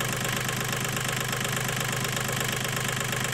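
A Bella scooter engine runs freshly after an oil change, idling close and even with a steady rapid throb and no talk.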